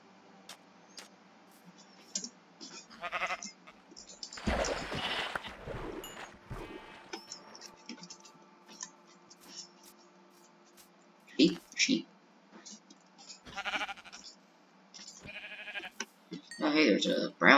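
Sheep bleating in a blocky survival video game, a few short bleats that come and go under steady talk.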